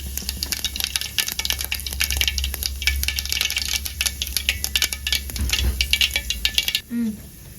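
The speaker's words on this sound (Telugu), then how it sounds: "నూనె వేడెక్కిన తర్వాత దాంట్లో కొంచెం మెంతులు వేయాలండి, తర్వాత ఆవాలు, తర్వాత" Fenugreek, mustard and cumin seeds spluttering in hot oil for a Nellore-style fish curry, a dense crackling and popping close by that runs steadily before stopping abruptly near the end.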